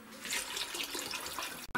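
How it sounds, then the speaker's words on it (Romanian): Water poured from a tap or jug into a pot holding a chicken being prepared for stuffing, a steady close splashing stream running for about two seconds before cutting off. "mai punem un pic de apă, Ramona."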